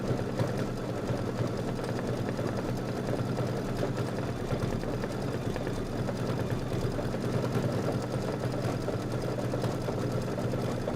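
A domestic sewing machine stitches steadily in a quilting session, a continuous moderate mechanical hum and rapid needle chatter running unbroken with no voices.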